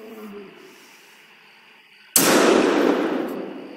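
A single sharp rifle shot from a lion hunting video game cracks out suddenly and loudly after a quiet stretch, followed by a long decaying echo tail.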